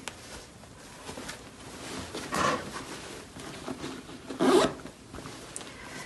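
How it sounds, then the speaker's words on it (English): The zipper on the back of a gown is drawn down a short way in a few quick, close rasping pulls, the loudest near the four-second mark, in an otherwise quiet room. "I'm going to unzip the zipper just a little bit"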